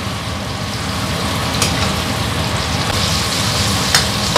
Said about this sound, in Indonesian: Nah, kita goreng aja menjadi satu.